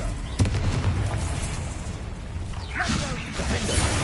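Confringo spell casts in Hogwarts Legacy combat crackle and whoosh amid a dense battle din, with a sharp thump early and a bright fiery burst near the end, all fairly loud over constant game noise.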